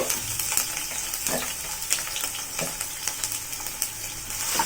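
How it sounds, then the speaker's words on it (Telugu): Chopped garlic and ginger fry in hot oil for a restaurant-style veg manchurian, a steady close hiss of sizzling with scattered crackles and pops throughout, no talking. "ఇప్పుడు ఇందులో సన్నగా తరిగి పెట్టుకున్న వెల్లుల్లి ముక్కలు, అల్లం ముక్కలు"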